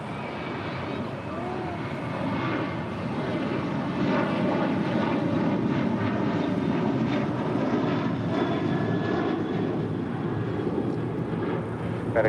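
American Airlines Boeing 737-800 departing LAX for Nashville, its engines producing a loud, steady roar that builds and holds throughout.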